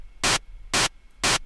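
Three short bursts of synthesized white noise from Ableton's Operator synth, evenly spaced and equally loud, each a bright hiss with near silence between, like a sustained hi-hat.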